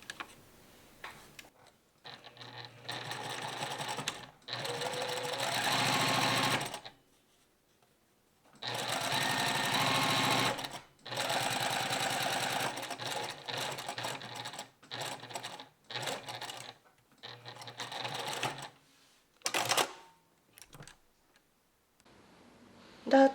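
A sewing machine stitches a dart in fabric, running in several bursts of rapid even ticking separated by silent pauses, with shorter runs near the end.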